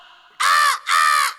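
A person imitates a crow, giving two loud, nasal caws in quick succession, close to the listener.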